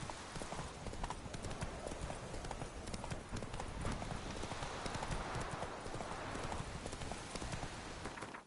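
Roach the horse gallops in The Witcher 3, a dense, continuous clip-clop of hooves driving steadily throughout at a fast even pace, moderately loud with no pauses and no talk.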